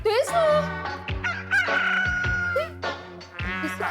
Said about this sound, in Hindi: अरे बाबा, लगता है मुर्गा घर में घुस गया है।